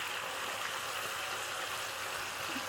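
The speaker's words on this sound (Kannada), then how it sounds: "ಇವಾಗ ಮ್ಯಾರಿನೇಟ್ ಮಾಡಿದ್ರಲ್ಲ ಚಿಕನ್ನು, ಅದನ್ನು ಡೀಪ್ ಫ್ರೈ ಮಾಡಬೇಕು" Marinated chicken deep frying in hot oil for chicken pickle, a steady dense bubbling hiss that carries on evenly throughout, close and moderately loud with no voices.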